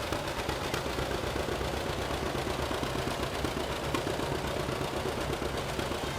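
A 1947 John Deere A tractor runs steadily in a parade, its engine giving a continuous low throbbing chug at an even pace, moderately distant and with no voices on top.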